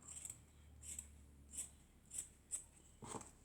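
Scissors snip through a piece of cardboard while crafting a small suitcase, with six quiet, evenly spaced cuts sounding close and alone.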